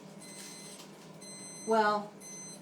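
A device in a kitchen gives soft, steady high-pitched tones in pulses, partly under a voice as he speaks briefly.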